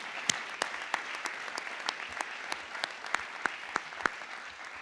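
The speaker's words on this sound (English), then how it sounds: "join with me in one more big round of applause for these coaches, athletes, contributors, and teams" An audience at a school athletics Hall of Honor induction ceremony applauds, a sustained soft clatter of many hands punctuated by a handful of sharper, louder individual claps standing out near the front.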